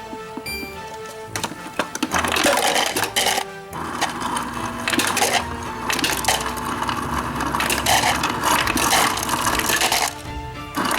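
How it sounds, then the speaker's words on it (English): Ice cubes tumble and clatter from a kitchen ice machine into a container, a dense rattling crunch that runs nearly throughout at close range, with brief pauses and no talking. "I'm just adding some extra ice to it."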